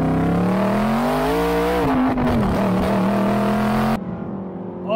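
An Aston Martin sports car with light sound deadening and free-flowing exhaust pipes revs hard nearby, its engine note rising, dipping and climbing again in a loud, continuous snarl.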